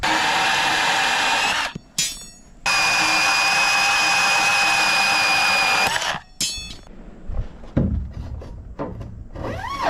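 A power tool whines loudly as it cuts threaded all-thread rod while concrete steps are formed for an inground swimming pool build, running in two long sustained bursts with a brief stop between, then winding down into clattering handling noise.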